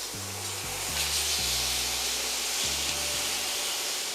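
Pork chops searing in a hot pan, a steady broad sizzle and hiss that runs the whole time at a moderate level. A low humming drone sits underneath, and no one speaks.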